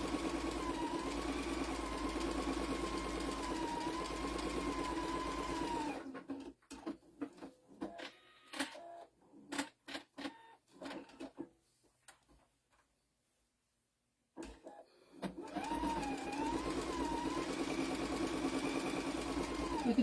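A sewing machine runs a steady top stitch along a fabric zipper bookmark, humming evenly at close range, then goes quiet with scattered handling clicks before resuming the same even whir.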